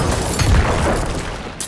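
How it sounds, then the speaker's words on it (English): Corpse Explosion spells from the Necromancer in Diablo 4 go off repeatedly, giving a dense, loud rumbling boom with blasts blending into one another and no speech. "all I'm doing is just spamming my button for Corpse Explosion here"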